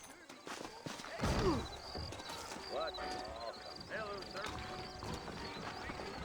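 Horses clip-clop at a trot in the Western video game Red Dead Redemption, with hoofbeats and a whinny under steady talk and ambient game sound.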